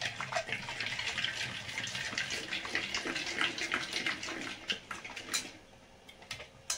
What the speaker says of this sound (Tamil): லைட்டா வாட்டர் ஆட் பண்ணிக்கணும்.